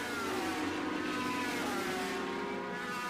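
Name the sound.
racing motorcycles, including a BMW, accelerating on a straight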